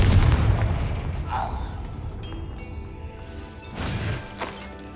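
A Confringo blasting curse explodes in the Hogwarts Legacy video game, a heavy booming blast at the start that rumbles away, followed by a second crashing impact near the end.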